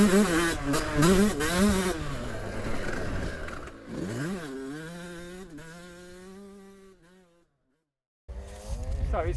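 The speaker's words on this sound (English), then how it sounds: "I'm going to continue having a rip on Matt Ridgway's bike here" A rare 135cc two-stroke dirt bike is ridden in bursts. The engine revs up and down, fades into the distance to near silence, then roars back loud and close.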